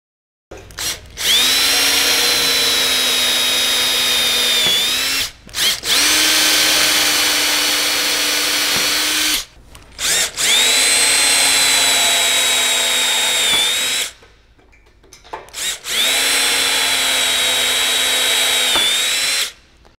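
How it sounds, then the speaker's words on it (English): A power drill with a bit bores two holes in the frame of a modular gangway, whining in four long steady runs of several seconds each, close and loud, with short pauses between them. "We're going to use the drill bit with the drill to drill two holes"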